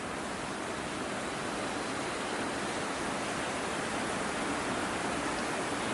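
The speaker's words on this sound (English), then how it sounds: "Can you hear the waterfall?" Floodwater rushes through a flooded garden like a waterfall, a steady broadband roar that holds at an even, moderate level with no voices.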